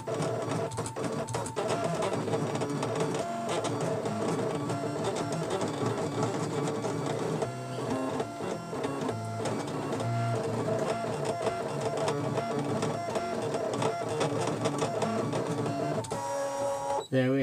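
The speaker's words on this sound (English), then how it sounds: "as you can see, the machine prints in no pattern that I can understand." A Scan N Cut machine embosses a pattern into parchment on an embossing mat, producing a continuous, close mechanical whir and buzzing with rapid ticking movements and no clear rhythm, running steadily throughout.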